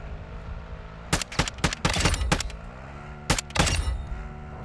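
Gunfire in the DMZ mode of a shooter video game: sharp bursts of shots in quick clusters, loud and close, with a pause before a final volley over low background game noise.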